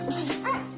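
A young dog gives a quick, close yip and whimpering bark, loud and alone over a low steady hum.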